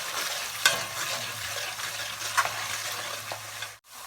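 Ingredients stirred and frying in oil in a pot for pumpkin soup, a steady close sizzle with occasional spoon scrapes and clacks, ending in a brief drop to near silence.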